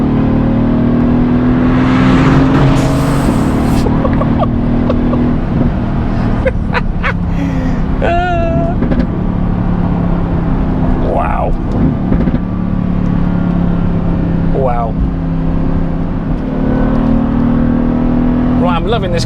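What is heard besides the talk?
Mercedes AMG GTS engine revving, accelerating in race mode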